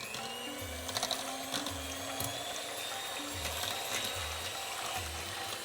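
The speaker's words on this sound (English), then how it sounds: "this is where we start to whisk like mad" Whisk beating oil into a goat milk soap mixture in a bowl, a fast steady rhythmic scraping and swishing with regular low pulses, fairly faint and close.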